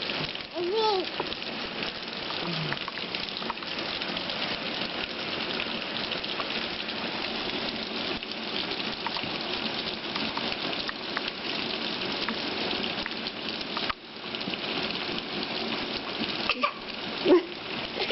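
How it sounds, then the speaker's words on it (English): Steady rain pours down close by, a constant hiss with occasional louder splashes, and faint voices now and then. "You're touching the rain."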